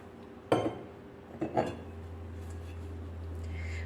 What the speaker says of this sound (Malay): Barang baru sampai, kenalah basuh dulu.